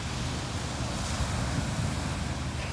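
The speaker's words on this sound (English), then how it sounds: "It's the ocean." Ocean waves wash onto a beach at sunrise, a steady close surf roar with some wind buffeting the microphone and no talking.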